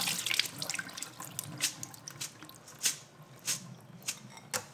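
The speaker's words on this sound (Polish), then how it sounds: "teraz ten ryż sobie przepłukamy" Soaked white rice being rinsed under running water, with splashing and dripping sounds in a series of irregular, fairly close bursts and no talking.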